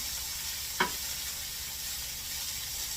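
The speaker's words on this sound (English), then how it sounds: "I'm just going to kind of keep stirring this." Pork for moo shu fries in a pan with a continuous soft sizzle, broken once by a single quick scrape of the stirring utensil; close, even and steady throughout.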